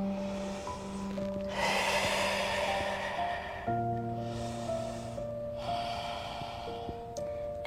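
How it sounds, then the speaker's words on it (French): Deep breaths taken while holding a yoga pose: long, slow airy inhales and exhales in several drawn-out cycles, close and fairly loud, with a steady tonal hum underneath and no talking. "prenez quelques grandes respirations ici"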